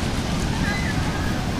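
Large waves break on Lakpan Beach in El Nido, Palawan, during bad weather, a loud roaring wash of surf mixed with wind buffeting the microphone, with voices in the background.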